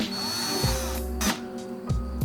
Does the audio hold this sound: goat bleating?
no